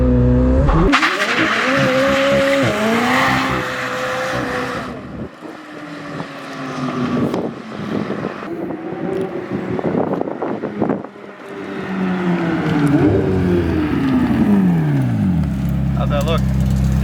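A McLaren 765LT roars through a rolling burnout, its engine revving hard with rising and falling pitch sweeps and tire squeal, loud and close with a drive-by fade, while people talk over it.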